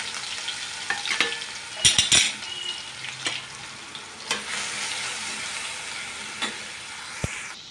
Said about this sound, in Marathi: आता मी याच्यात आलं लसूण हिरवी मिरची कोथिंबीरची पेस्ट टाकणार आहे।